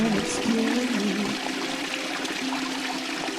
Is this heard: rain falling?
no